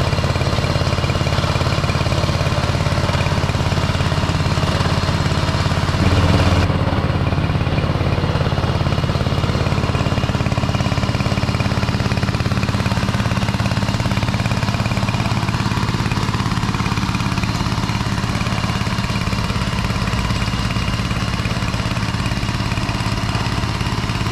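A bore well drilling rig's heavy diesel engine drones steadily throughout, with a rapid pounding drill hammering into soft soil underneath, loud and continuous.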